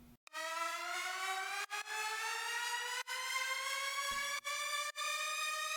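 Riser sound effect made in FL Studio Mobile: a loud, bright, buzzy synth tone with many harmonics sweeps slowly upward in pitch for several seconds, broken by a few brief gaps.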